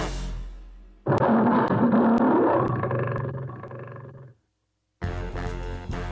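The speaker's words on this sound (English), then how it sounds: "The lion roared so loud it knocked Peter right off his chair." A lion roar sound effect bursts in loud and close, holding for about three seconds before tapering off into silence, after which a separate sound starts up.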